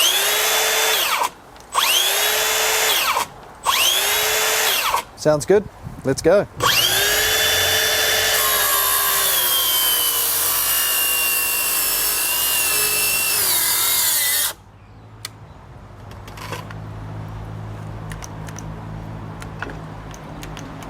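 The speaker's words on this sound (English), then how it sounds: "Let's test it on a circular saw." A battery-powered circular saw spins up in short bursts and then runs steadily while cutting through wood before stalling abruptly. A brief spoken remark sits among the bursts, and quieter handling noise follows.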